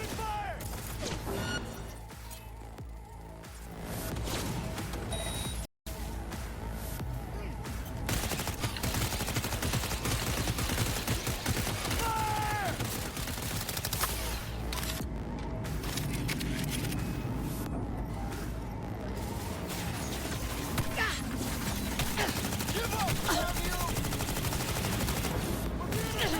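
Gunfire in the video game Cyberpunk 2077, dense and sustained bursts of automatic shots with mechanical clatter, loud and continuous, briefly cutting out once before resuming.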